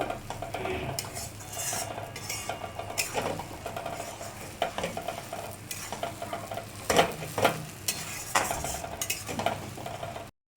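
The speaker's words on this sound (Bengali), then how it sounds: "এবার এটাকে একটু কষিয়ে নেব।" Mutton fries with ginger, garlic and dried chili paste under a soft sizzle while a metal spoon scrapes and clinks against the pan in irregular bursts, close by and with no speech.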